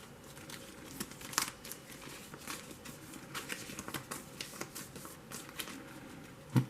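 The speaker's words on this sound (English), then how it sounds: "we'll just shuffle these up." A small deck of nine playing cards is shuffled during a tabletop card game. The cards give soft, close riffling and flicking, with quiet crisp taps spread unevenly across several seconds.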